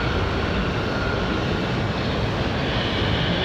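A CRJ regional jet on the runway at Raleigh Durham airport gives a loud, steady engine roar and hiss that holds constant throughout, with no voices over it.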